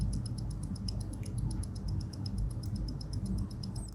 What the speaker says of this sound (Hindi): अब ये कोई अलग से साउंड इफेक्ट नहीं था, ये इस टूबियन मूवमेंट की आवाज़ थी।